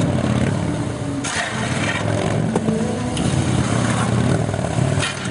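A BMW police motorcycle works through a motor officer training course, its engine rumbling and revving steadily at moderate distance, with rising and falling throttle blips throughout.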